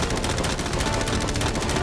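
Sustained machine gun fire in a video game battle over a yacht, fast overlapping bursts forming a steady loud clatter throughout, close and without pause.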